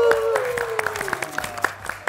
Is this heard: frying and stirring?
no